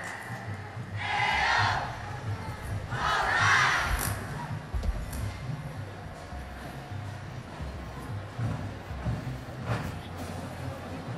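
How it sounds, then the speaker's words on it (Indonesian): A street-parade crowd at the HB Cup 2019 national marching band championship cheers and shouts for the UNY Citra Derap Bahana marching band, with loud swells of yelling early on over a constant outdoor roar and an announcer's voice mixed in. "Berikan aplaus yang meriah untuk Marching Band Citra Dirabahana Universitas Negeri"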